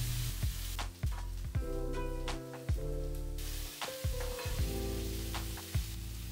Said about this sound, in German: Bratet eure Gewürze für ein paar Sekunden im Kokosöl an und fügt dann die Zwiebeln hinzu